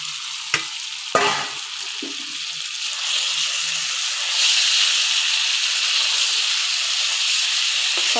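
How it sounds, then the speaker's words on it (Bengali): Fried papaya and potato pieces go into a spice paste frying in oil, with two sharp utensil knocks at the start followed by a steady, rising hiss and sizzle as the mixture is stirred. "এবার দিয়ে দেব যে পেঁপে আর আলুটা ভেজে রেখেছিলাম সেটা।"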